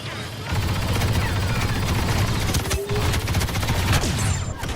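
Covering gunfire in the Star Wars Battlefront II video game rattles on steadily as a dense, continuous barrage. It stays loud throughout, with engine-like droning and possible voices mixed beneath it.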